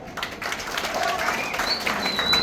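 Sustained audience applause at a market committee introduction meeting, a steady wash of many hands clapping at moderate loudness, with faint voices mixed in.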